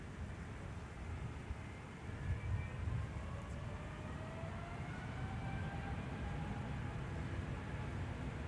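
A Delta 152 Heavy airliner taking off from runway 12 right at Minneapolis–St. Paul airport, heard as a distant, steady engine roar that swells slightly partway through, with a faint rising whine above it.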